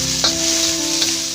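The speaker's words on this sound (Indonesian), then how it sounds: "Kita tumis juga ayam dan bakso ini sampai kira-kira setengah matang ya." Chicken and meatballs with spices stir-frying in a hot pan for fried rice, sizzling steadily close by, with two brief clanks of a utensil stirring.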